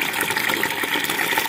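Steady rushing gush of water drawn from a full rural water tank, running continuously and close by with no pauses.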